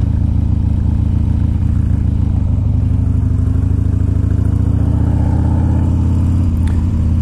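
A 2001 Harley-Davidson Dyna Wide Glide motorcycle idles close and loud with a deep, lumpy V-twin rumble, steady throughout with slight rises and dips in engine speed.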